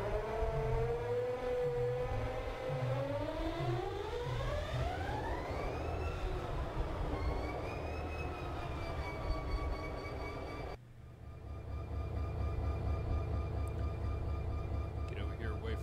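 A diesel locomotive in Run 8 Train Simulator starts up, its engine rumble building steadily while rising and falling whining tones sweep upward, then the sound shifts to a steady loud idle-like drone.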